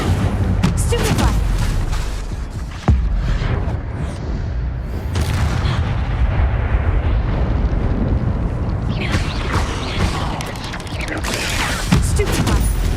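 Spells are cast in the Hogwarts Legacy video game, with loud, continuous rumbling blasts, bursts and booming impacts layered densely over one another for the full length.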